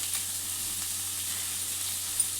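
Gudalu fry in a pan as coriander is added, giving a steady, even sizzle and hiss with one small tap near the end.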